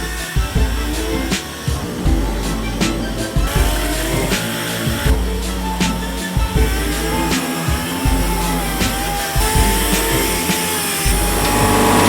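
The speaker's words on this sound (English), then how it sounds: "Okay, let's start sanding." Close, loud hand sanding with sandpaper scrapes the painted body of a 1964 Chevy truck in rapid back-and-forth rasping strokes, continuous across the whole stretch with a faint hum behind and no talking.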